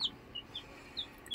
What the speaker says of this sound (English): so I got me some birds, some chickens.